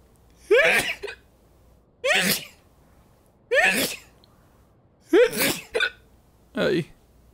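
Five separate sneezes, sharp and close, arrive at irregular intervals of about a second and a half, each a brief loud burst followed by near silence.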